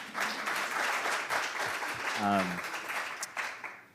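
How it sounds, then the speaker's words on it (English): Audience applause at an ASU+GSV 2023 panel on teacher pipelines, a dense, steady clatter of clapping running the full length at moderate loudness, with a brief tonal voice-like sound in the middle. "I'll give you a clap."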